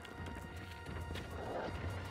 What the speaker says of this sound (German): Der Reisebogen ist zerbrochen.